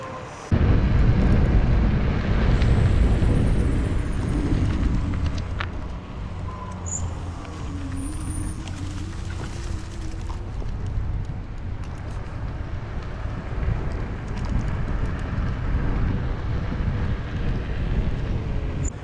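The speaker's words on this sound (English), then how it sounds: "taking it down a hill, so let's see how fast we can get it going" Hiboy X300 folding electric scooter speeding downhill, a steady loud rush of wind buffeting the microphone with low road rumble throughout, no talking.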